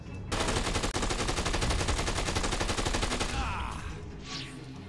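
Gunshots from the game Dead Rising 2: one long, continuous burst of rapid automatic fire, loud and close, that cuts off after about three seconds and gives way to fainter noises.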